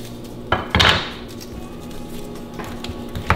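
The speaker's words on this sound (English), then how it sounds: "Now, we'll take our onion. Cut our onion down." Knife chopping through an onion on a board while preparing black buck for cooking, giving a few sharp, close chops and knocks between pauses, no talk.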